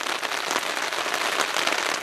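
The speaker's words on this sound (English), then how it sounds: "So now it's raining, so stuck under the tarp now for a while." Rain falls on a tarp sheltering a backpacking camp, dense continuous patter, loud and close, no voices.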